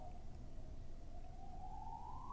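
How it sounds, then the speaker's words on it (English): A siren wails steadily at a distance, its pitch slowly rising over a low rumble of traffic or background noise. "Now there's a siren."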